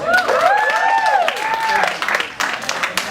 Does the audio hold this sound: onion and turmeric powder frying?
no